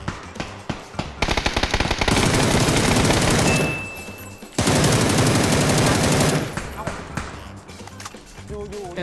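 Dense automatic gunfire from a PUBG match, with long sustained bursts and a brief pause in the middle, loud and close.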